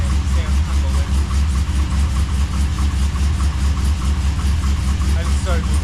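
Holden VX SS Commodore V8 engine idling after a cold start, a loud, steady low rumble with even pulsing and a whirring fan, while someone talks over it.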